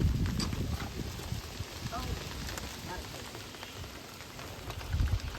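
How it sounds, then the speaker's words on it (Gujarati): Rain falls steadily outdoors with a constant patter, under close voices talking over it. "વરસાદ ચાલુ"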